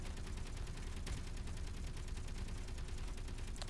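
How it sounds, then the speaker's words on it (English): Gatling guns pouring sustained fire onto a capital ship's hull in the space game Space Engineers, a dense, continuous rattle of rapid shots holding at steady loudness throughout. "So if we get our Gatling guns and start firing on the hull"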